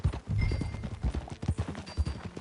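Horse hooves clip-clop in Red Dead Redemption 2, a quick rhythmic trot of hollow thuds close by, with faint jingling tack and a soft ambient bed.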